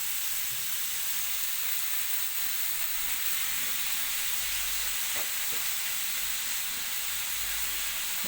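Tomato and soaked moong dal frying in a pan, a steady close sizzle and hiss with faint stirring scrapes and no talk.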